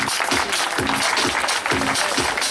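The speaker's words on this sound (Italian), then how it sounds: "Bene, un forte applauso per questi due equipaggi." A crowd applauds loudly and steadily for two rally crews at a 2013 rally event in Maglie, with voices mixed into the dense clapping throughout.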